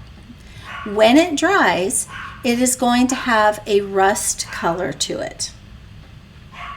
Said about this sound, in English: I apologize if you can hear my dog barking